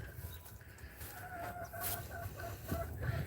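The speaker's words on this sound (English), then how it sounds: "I'll show y'all the chickens real quick." Chickens clucking steadily inside a coop that is being cleaned, several birds close by with overlapping calls and no talk.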